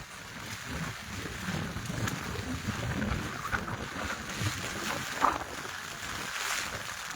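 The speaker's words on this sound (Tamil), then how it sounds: "காற்றும் பலமா அடிக்குது உடைய தூக்குற அளவுக்கு அடிக்குது பயங்கரமாக" Strong wind gusts across the coast at Ammapattinam, a steady, rough roar buffeting the microphone throughout, with no clear voices.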